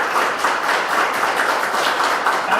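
An audience at a Gujarati mother-language day event in Gandhinagar claps in a steady, dense patter that stays fairly loud and even through the brief stretch.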